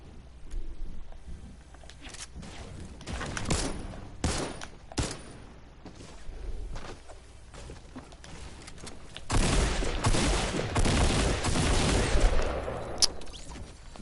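Shotgun blasts in Fortnite, a few sharp shots scattered through the fight followed by a denser flurry of gunfire and impacts, moderately loud with no talk.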